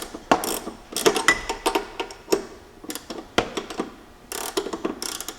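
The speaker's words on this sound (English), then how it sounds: "I'm going to take my ratchet wrench and tighten it up so that way the rubber bushing bulges out" Ratchet wrench tightening a nut on a rubber suspension bushing of a Jeep Cherokee XJ during a lift install, heard as bursts of sharp, close metallic clicking with short pauses between strokes and no talk.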